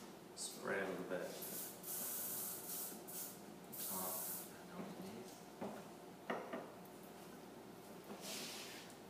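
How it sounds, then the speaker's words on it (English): Several short bursts of hairspray hiss, repeated a few times at close range during hair styling, with faint background noise between them. "to spray a little bit."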